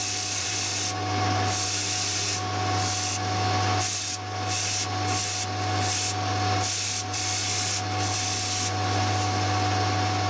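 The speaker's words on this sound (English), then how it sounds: "I can just use it like a form tool and just plunge cut straight in" A metal lathe plunge cuts straight in with a 55 degree insert used as a form tool on a part for a DIY sand muller, giving a steady loud hum with rhythmic rasping pulses of cutting noise.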